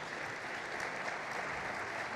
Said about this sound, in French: On vous applaudit énormément.